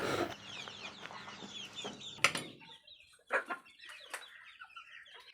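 Free-range village chickens cluck in scattered short bursts against a quiet background, a few sharper calls standing out, ending with a sudden loud knock.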